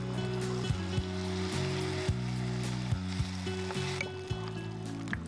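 Tempering poured over Banarasi garlic curry sets off a steady, hissing sizzle that runs the whole time, close and fairly loud, with faint scrapes and clinks of a utensil over it.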